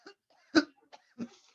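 A single sharp cough stands out near the start, with a couple of smaller throat sounds before and after it, close and clear in a quiet room.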